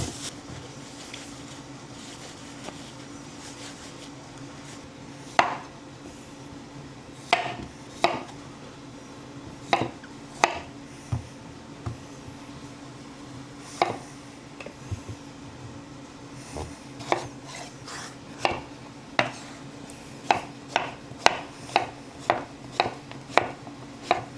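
A knife chops squash on a cutting board with sharp, close thunks. They start sparse and irregular, then turn into a quicker, steady rhythm toward the end over a quiet kitchen background, with no talking.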